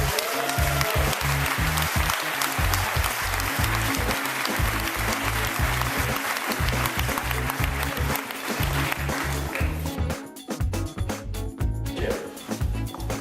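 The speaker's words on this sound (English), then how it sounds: "Ladies and gentlemen, please give them a round of applause." Audience applause for leaders standing at a motivational talk, a loud, steady wash of clapping over a pounding, rhythmic music beat that thins out near the end.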